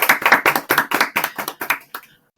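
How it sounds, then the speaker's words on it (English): A small group applauds podcast guests with close, crisp hand claps. The claps come in an even rhythm of about ten and trail off into silence after two seconds. "I think you all deserve a round of applause."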